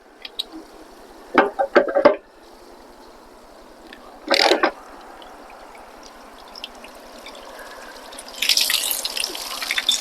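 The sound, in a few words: water draining from a travel trailer hot water tank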